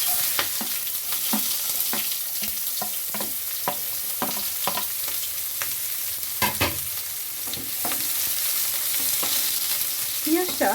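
Chopped onions fry in hot oil with whole garam masala spices, a steady close sizzle broken by frequent scraping stirs of a spatula around the pan, with no voices.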